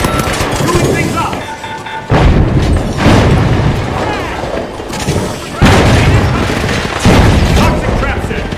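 Loud booming blasts in a video game, a grenade explosion among them, with several heavy bursts breaking out in a row amid continuous gunfire and chaotic battle noise.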